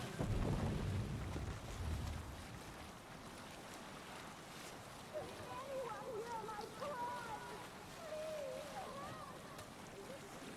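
A sailing ship crossing the sea in Assassin's Creed Valhalla gives a steady rush of wind and water with a heavy low rumble at the start, while faint voices rise over it later.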